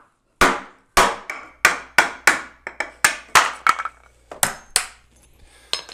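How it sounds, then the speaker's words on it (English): Hammer blows knock apart a stapled elevator landing door frame, about a dozen sharp, loud wooden whacks in an uneven rhythm, close by with no talking. "I'm just going to try hammering this apart."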